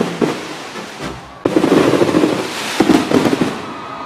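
Fireworks boom and crackle continuously at an Islamic boarding school anniversary celebration, with a sharp loud burst joining the rumbling barrage of explosions nearby.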